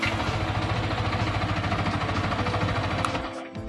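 A Yamaha R15 version 3 motorcycle with a self-start problem: the starter switch is pressed and a continuous whirring, buzzing starter and engine drone runs for several seconds, close and steady before easing off.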